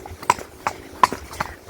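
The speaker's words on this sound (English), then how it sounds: "And that's the horse that I used to compete on" Horse hooves clip-clopping on firm ground, a steady rhythm of evenly spaced sharp knocks about every 0.4 seconds, close and fairly clear.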